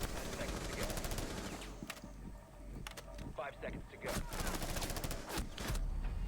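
Rapid bursts of gunfire from a Rainbow Six Siege match in an Xbox One league game during a 1v3 round, sharp volleys cutting through a dense, busy mix with some talk underneath.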